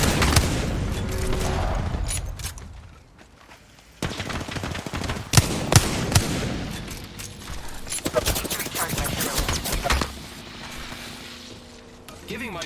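Rapid bursts of video game gunfire crackle through a hectic match, loud clustered volleys and single cracks repeating across the span with brief lulls, mixed with other in-game effects.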